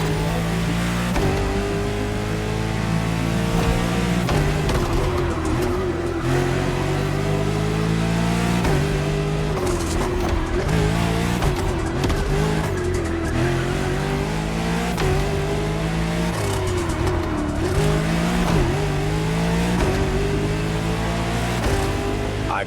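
A French luxury hypercar with four-figure horsepower in The Crew Motor Fest racing game, its engine roaring and revving continuously through repeated gear shifts, loud and close with no talking.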